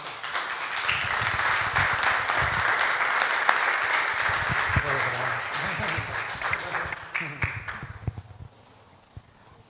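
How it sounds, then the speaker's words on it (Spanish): Sustained applause from a church congregation after a closing prayer, dense and steady for most of the stretch, then thinning into scattered claps and fading near the end. "Denle un aplauso al Señor."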